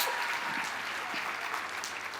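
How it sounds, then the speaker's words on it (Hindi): A crowd at a business gathering gives a brief, fairly distant burst of applause, a soft steady wash of clapping with no talk over it. "तो रामवीर सर के लिए भी एक बार तालियां होनी चाहिए।"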